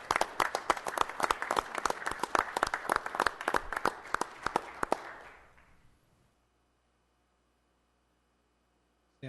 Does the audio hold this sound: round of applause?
yes